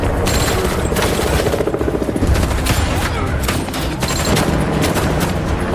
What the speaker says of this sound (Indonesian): akhirnya baku tembak pun meletus saat polisi bergerak masuk